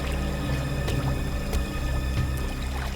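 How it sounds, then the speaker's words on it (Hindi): Water flows and gurgles in a jungle, a loud, continuous rushing pour with small splashes, close and filling the scene without speech. "सर इस तरफ से पानी के बहने की आवाज आ रही है"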